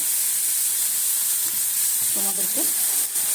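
Tomato going into a hot pan while cooking a Bengali meal, giving a loud, steady sizzle that hisses throughout. A faint voice-like murmur appears briefly near the end.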